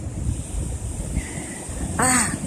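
Ocean waves wash in the open sea far from shore with a steady rushing roar and buffeting wind, and a brief high call cuts in near the end.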